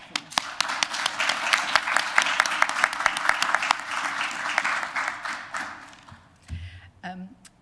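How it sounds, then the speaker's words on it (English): Round of applause at a district council cabinet meeting, a modest group clapping with distinct individual claps, fading out toward the end as a voice and some shuffling sounds emerge. "I really give you a round of applause."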